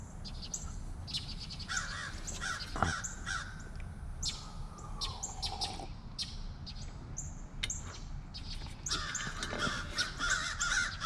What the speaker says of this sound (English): I wish them crows would shut up.